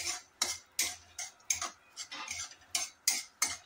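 Raisins and rava roasting in a pan, stirred with a utensil that scrapes and taps the pan in a steady rhythm of about ten quick strokes, close and clear with no talk.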